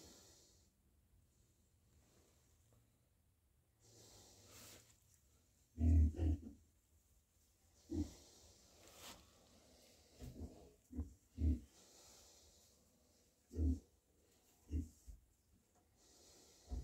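A Vietnamese pot-bellied pig, a pregnant sow near farrowing, gives several short, close snorts and grunts at irregular intervals in a quiet pen.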